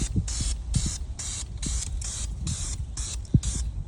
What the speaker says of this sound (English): we're going to shoot a real light dust coat